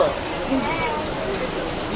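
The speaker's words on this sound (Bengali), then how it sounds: "বাইরে প্রচণ্ড বৃষ্টি হচ্ছে, বৃষ্টির দিনেই আমরা বেরিয়েছি।" Heavy rain pours down during an outing, making a steady, dense, unbroken hiss that fills the whole moment with no distinct drops standing out.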